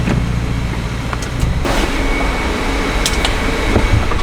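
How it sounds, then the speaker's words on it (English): A loud 15-year-old car idles and creeps forward as it pulls in for a roadworthiness inspection, a steady low engine rumble with fan-like hiss close by and no talking. "Gonna pull the car in."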